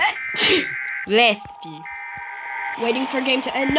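A single quick sneeze bursts out during a zombie subway video game session, set among electronic game beeps and tones, with a person talking afterward.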